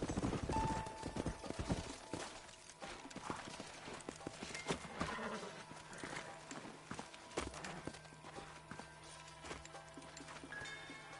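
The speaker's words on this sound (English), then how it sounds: "Let's hold up a minute and find a spot for our horses." Horse hooves clip-clop steadily in Red Dead Redemption, a game set on horseback, with a rhythmic patter of steps close by over a busy bed of ambient game sound and occasional neighs.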